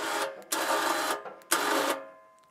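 Winch on an ATV bale trailer releasing its line, heard as two bursts of bright, whirring mechanical rattle, each about half a second long. The bursts sound close and fairly loud, and a quieter ring lingers between and after them.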